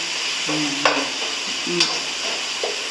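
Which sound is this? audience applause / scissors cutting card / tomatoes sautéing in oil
tomatoes sautéing in oil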